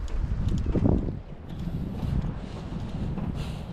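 Cold wind blows by the sea near a boat, buffeting the microphone with a steady low rumbling roar that swells briefly, then settles into a continuous gusty hiss.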